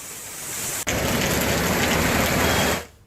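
Heavy, steady rain pours down in a dense, even hiss that starts abruptly and holds at full strength before cutting off near the end, with no voices.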